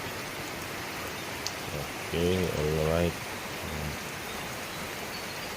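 Heavy early-morning rain pours steadily in a rural province, a dense, even hiss throughout, while someone briefly speaks over it partway through.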